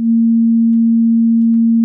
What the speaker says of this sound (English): you get an inverted sine wave